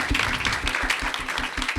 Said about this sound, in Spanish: le damos un aplauso a Julie por la conversación.